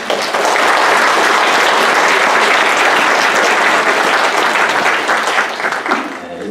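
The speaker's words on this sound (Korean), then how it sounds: "박수를 한번 크게 한번" Loud, dense applause from an audience at a church creation-science seminar, clapping steadily for about six seconds before thinning out and fading at the end.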